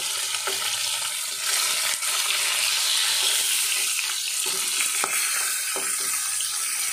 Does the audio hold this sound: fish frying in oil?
yes